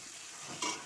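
Onions frying with Kashmiri red chili powder, stirred in the pan, with a short scraping stir and a burst of sizzle near the end.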